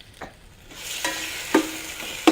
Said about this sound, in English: So as you see, gently stir frying without burning.